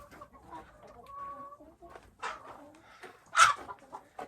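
Chickens cluck softly in short, scattered calls nearby, with one louder squawk in the middle and quiet rustling between.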